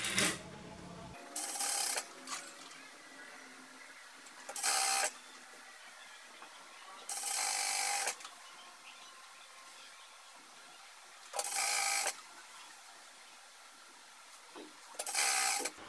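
A sewing machine runs the side seams of a pair of pajamas in short, loud bursts of rapid stitching separated by quiet pauses, five bursts in all, with handling noise at the start.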